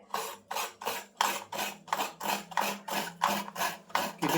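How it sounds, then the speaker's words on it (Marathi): Fresh coconut grated by hand for traditional rice kheer: about a dozen even, rhythmic rasping strokes, each a short scratchy burst with brief gaps between, close and clear with no talk. "मी आता ओलं खोबरं जरा किसून घेते थोडंसं"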